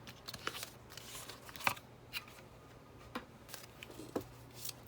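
Cards pulled and shuffled from a Romance Angels oracle deck, soft scattered slaps and rustles in quick irregular bursts, close and quiet with no voices.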